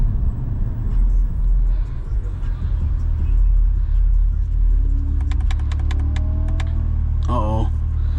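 Low, steady rumble of a C8 Corvette sports car engine while driving on a Florida road, continuous and close with a rising whine near the end, under occasional talk.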